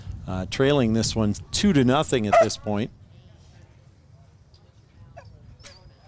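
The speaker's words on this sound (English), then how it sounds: "Well, there's a dog down there." A dog at a Spearfish vs Casper baseball game gives a few quick barks and yips mixed in with a commentator's speech, followed by quieter background.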